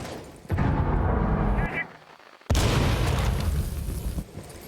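Flashbangs and grenades go off during a Rainbow Six Siege pro match on the Villa map, a loud sustained blast roaring for over a second, a brief lull, then a second heavy burst that rumbles on, with commentary talk underneath.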